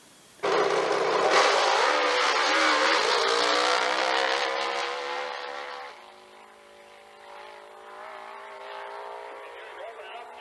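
A nitromethane-burning Top Fuel drag racing motorcycle of over 1,000 horsepower launches with a loud, harsh engine roar that holds strong for several seconds, then fades and lingers more quietly as it pulls away.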